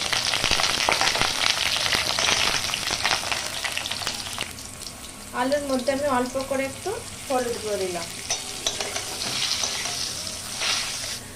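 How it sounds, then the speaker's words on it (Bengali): Potato pieces fry in hot mustard oil for a Bengali mutton curry, giving a loud, continuous sizzle. A voice speaks over the middle of it, and the frying carries on alone afterward. "সর্ষের তেলটা আমার গরম হয়ে গেছে তো তারপরে আমি আলু আলুটাকে লাল লাল করে ভেজে দেবো"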